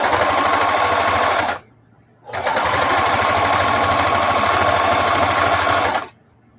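Sewing machine quilting with a walking foot, running in two steady loud bursts of rapid stitching separated by a brief pause, close up.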